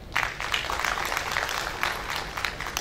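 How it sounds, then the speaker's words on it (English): An audience at a highway engineering workshop gives a round of applause, a steady wash of moderate clapping from a hall of people, with a voice faintly audible beneath it. "And applause for them also."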